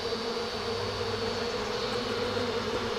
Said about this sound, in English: Smoke these bees off this end here.